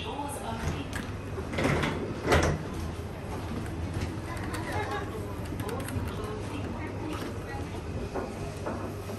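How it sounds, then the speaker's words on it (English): A Schindler lift at Changi Airport Terminal 4 slides its doors open with a soft rumbling thud and brief mechanical rattle over a steady hum, while an automated voice announces in the car. "Doors opening."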